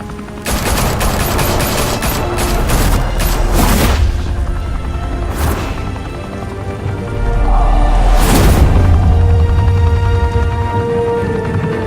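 Heavy gunfire from a Batman video game, loud sustained bursts of shots with booming impacts in a chaotic firefight, continuous for most of the span.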